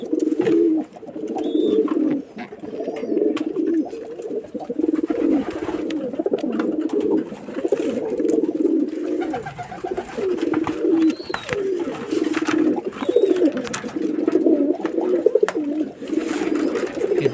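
Giribaj pigeons coo close by in a repeated low, throaty rhythm that continues throughout, with a few faint chirps above it and no talking.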